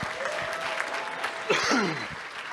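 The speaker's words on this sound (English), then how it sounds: "Come on, another round of applause for Christian, please." An audience at a keynote speech applauds in a sustained burst of clapping, with a voice talking over it partway through.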